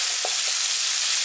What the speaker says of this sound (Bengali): পেঁয়াজটাকে এবার লালচে করে ভেজে নিচ্ছি